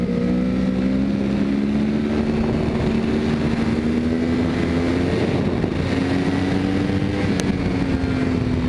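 A 2011 Yamaha R1 motorcycle pulls in second gear at about 45 to 50 mph for a wheelie, giving a loud, steady engine drone whose pitch climbs slowly, mixed with rushing wind noise.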